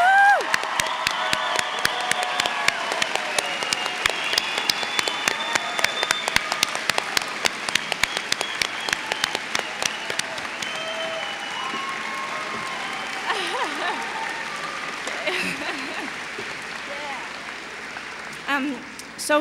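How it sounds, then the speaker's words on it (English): Sustained applause from a graduation ceremony crowd honoring the 2013 graduates, with dense clapping and scattered whoops and cheers running throughout, thinning slightly toward the end. "let's have one huge round of applause for the grad of 2013"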